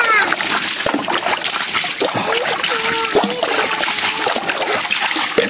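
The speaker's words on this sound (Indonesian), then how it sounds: "Kita kuras dulu teman-teman airnya." Water is scooped and splashed out of a small fish pond to drain it, with repeated sloshing splashes and trickles close by, while voices chatter over the top.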